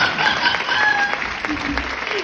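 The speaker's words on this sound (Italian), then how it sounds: "Questo applauso è per te, guarda" Studio audience clapping on an Italian TV variety show, a steady wash of applause throughout with faint voices mixed in.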